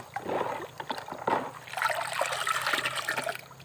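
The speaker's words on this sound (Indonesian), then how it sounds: "Kemudian kita aduk kembali" A microbial solution in water is stirred by hand, giving sloshing, swirling splashes and liquid churning, with short bursts early on, then a longer continuous swish.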